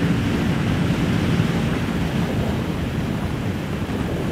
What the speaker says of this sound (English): Oh my God, it's windy